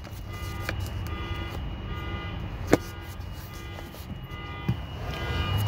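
A 2019 Toyota Tacoma TRD Pro sounds a steady electronic alarm tone that keeps going without a break. It holds even under a low background rumble, with a couple of sharp clicks and no voices.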